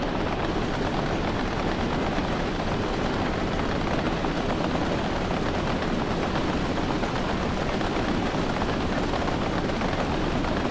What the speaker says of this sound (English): Our oil train being filled. Pumping through quite a bit.